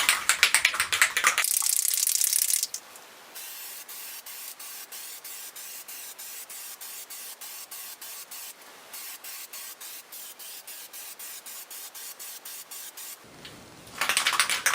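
Aerosol can of Plasti Dip rubber coating sprayed in a steady hiss of repeated bursts onto an ASUS X401A laptop, loud and close, with short pauses between passes and no talking.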